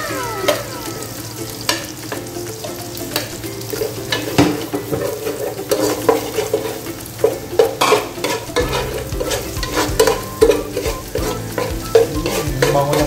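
Garlic sautéing in butter in a pan, with a steady sizzle under frequent clinks and scrapes of a utensil stirring against the pan.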